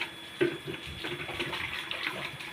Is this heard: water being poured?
yes